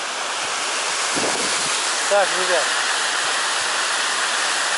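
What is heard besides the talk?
mountain river flowing in Chechnya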